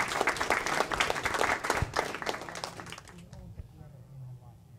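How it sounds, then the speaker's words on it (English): Audience applause at a Music Asia 2022 stage show, a dense wash of clapping that is loud for the first three seconds and then fades away. "how about another one more big round of applause for Mr. Marlon Wonto?"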